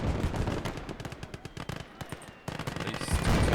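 MG34 machine guns fire in Call To Arms: Gates Of Hell, at least two of them, in loud, dense, rapid bursts that continue without letup, with a brief lull before the fire swells again.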